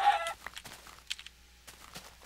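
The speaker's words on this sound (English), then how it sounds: "Oh crap, sun's going down, but there's a chicken." A Minecraft chicken clucks in a few short, quick, clipped bursts, close and clear over near silence.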